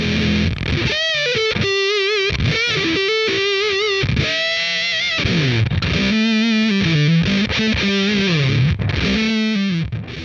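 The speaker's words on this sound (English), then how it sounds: "The Big Muff is known for its grungy wall of sound distortion and is great for heavy rhythm playing and heavy leads." An electric guitar played through an Electro-Harmonix Big Muff distortion pedal, with thick, fuzzy sustained notes and bends in a heavy riff, loud and alone.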